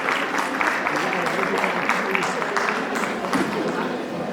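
Applause welcoming someone speaker at a ceremony of a women's association: a continuous, fairly loud patter of many hands clapping, with a few louder claps standing out, no voices over it.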